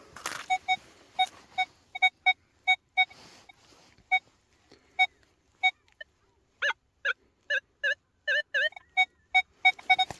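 Underwater metal detector, a Legend WHP PRO, searching the Dnipro riverbed, sounds a series of short, evenly spaced electronic beeps, then a faster burst of rising warbling tones before the steady beeps resume, with no talking.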